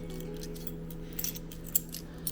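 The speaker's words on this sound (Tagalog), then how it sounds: "Ayan yung susi for lockers." Small hotel locker keys jangle faintly with a few light metallic clinks over a steady low room hum.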